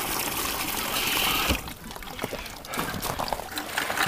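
Water dumped into a duck water container on a farm with ducks and geese, a splashing pour that breaks off sharply, then scattered trickles and drips, close and fairly loud.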